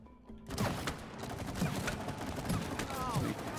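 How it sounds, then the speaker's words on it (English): Rapid bursts of video game gunfire, a dense continuous crackle of shots at steady loudness that starts after a short quieter lead-in and runs to the end. "And now you have to shoot it, Shats."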